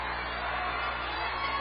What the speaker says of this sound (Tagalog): You can hear the crowd sumisigaw